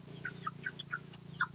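Rhode Island Red hens on a laying farm cluck in short, scattered calls close by, several birds overlapping over a low steady background hum, with no talking.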